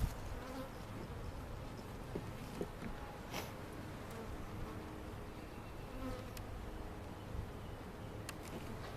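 Honeybees buzz steadily around an open hive during a spring inspection, a dense, continuous drone close by with no talking over it.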